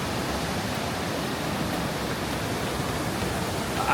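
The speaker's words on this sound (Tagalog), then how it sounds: "Naririnig yung ahos ng tubig." Rushing water of a large waterfall at a scenic site in Shenzhen, China, a steady, loud, broadband roar with no breaks, heard close and alone throughout.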